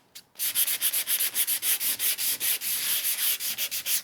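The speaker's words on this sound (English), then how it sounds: "using that same medium grit sandpaper, I want to show you how easy it is to distress" Medium-grit sandpaper scrubs a black-painted wooden heart in fast back-and-forth strokes, a close, loud, rhythmic rasping of about a dozen even passes.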